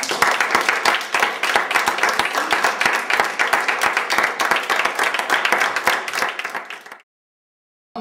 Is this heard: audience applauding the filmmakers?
yes